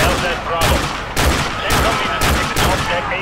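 A gun in Call of Duty Modern Warfare 2 fires loud, close bursts of rapid shots with brief gaps between them, continuing throughout.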